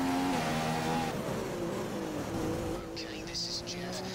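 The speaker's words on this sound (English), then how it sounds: "There's so many cars passing me now." Formula 1 race cars in the F1 2015 game at the Hungary circuit, engine notes whining and shifting in pitch as cars go by, with a voice talking over them.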